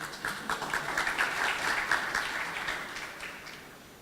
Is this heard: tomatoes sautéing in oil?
no